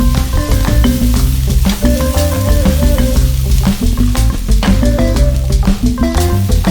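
Vegan saag ingredients fry and sizzle in a pan, with a loud, continuous crackle broken by frequent clinks and scrapes of a utensil stirring against the metal. No voices.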